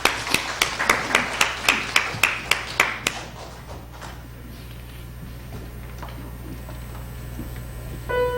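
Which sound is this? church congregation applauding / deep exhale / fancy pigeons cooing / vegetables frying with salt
church congregation applauding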